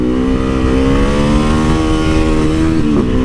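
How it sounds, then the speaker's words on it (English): A Harley-Davidson Sportster Iron 883's air-cooled 883cc V-twin engine revs loudly and steadily up close, its throaty rumble rising slightly in pitch before settling. "It's got the 883cc V-twin engine, air-cooled."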